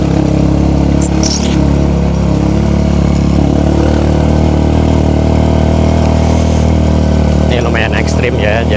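A motorcycle engine runs steadily and loudly on a quiet road near an old Dutch-era hydroelectric plant, with a continuous low drone throughout and brief brighter bursts near the start and end.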